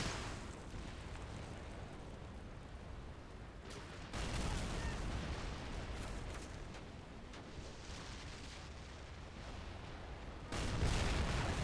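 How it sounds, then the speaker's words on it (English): Massive artillery bombardment on the beach during the Le Shima Island landing in Men of War: Assault Squad 2, a constant rumbling barrage of distant booms and crackling blasts that swells louder at moments. "There are still massive bombardments going down on the beach here"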